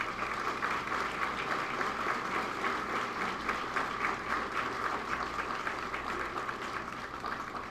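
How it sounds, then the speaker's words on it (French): An audience at an education ministry award ceremony for national exam laureates claps warmly in a dense, steady round of applause that lasts for several seconds without voices on top. "Je vous demande d'applaudir chaudement, encore une fois, tous les lauréats des examens d'État."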